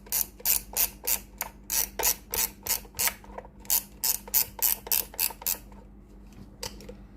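A Philips PSG2000 steam iron's adjustment dial is turned repeatedly, producing a rapid series of sharp ratcheting clicks in bursts, close and clear with a short pause near the end.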